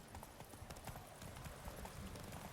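Horse hooves galloping in the Witcher 3 video game, a fast, steady clip-clop rhythm under a constant muffled background hum.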